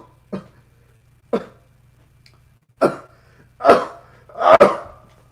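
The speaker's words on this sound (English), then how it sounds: "Sorry for the coughing." Five separate coughs, close by, spaced irregularly and growing louder, the last two coming in quick succession.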